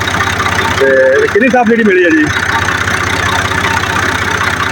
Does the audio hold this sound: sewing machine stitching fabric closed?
no